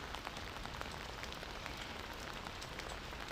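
Rain falls in the desert with a soft, even hiss of drops on surfaces, faint and steady throughout with no voices.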